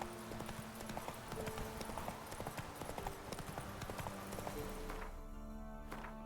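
Rhythmic hooves of Roach, a horse in The Witcher 3, gallop steadily at moderate volume, then slow and fade near the end.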